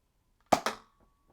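A Nerf Firestrike dart blaster fires two quick sharp pops, close and fairly loud, with a faint steady whine lingering afterward.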